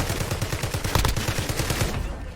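Rapid automatic gunfire from Call of Duty Warzone, a dense stream of shots with a heavier burst in the middle, loud and continuous across the whole stretch.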